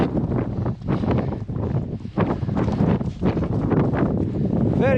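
Strong wind buffeting across the rocky summit of Ben Vane in cold conditions, a loud continuous rushing roar with heavy gusts battering the microphone.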